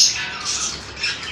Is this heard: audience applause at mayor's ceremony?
no